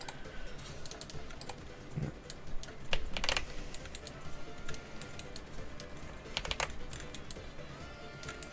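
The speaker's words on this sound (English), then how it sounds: "unedited footage of me doing this with extremely loud keyboard noises" Loud computer keyboard typing during a Blender work session, a steady stream of close, clattering keystrokes with occasional heavier bursts of taps, continuing without pause and no one talking.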